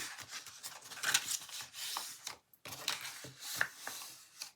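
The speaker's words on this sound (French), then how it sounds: "Je vais marquer mes plis." A tool scores fold lines into a cardboard lid for a gift box, giving short, dry scraping strokes close up, repeated several times with a brief pause midway.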